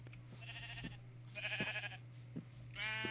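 Several sheep in Minecraft bleat in turn, three separate wavering calls spaced about a second apart, close and clear over a low steady hum.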